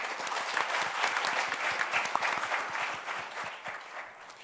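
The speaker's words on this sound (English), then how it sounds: "please join me in giving them a big hand" Applause for conference panelists at an academic session on a nuclear-free Korean peninsula: a steady patter of many hands clapping at moderate distance, fairly quiet, with no voices over it.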